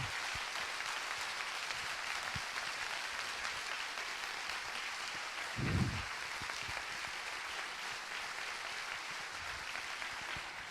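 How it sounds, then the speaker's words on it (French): Conference audience applauding in a hall in Grenoble as two speakers are welcomed on stage, a steady dense wash of clapping held at even loudness throughout, with a brief low thump partway through. "vous êtes venu pour écouter les deux intervenants que je vais vous demander d'accueillir sous un tonnerre d'applaudissements"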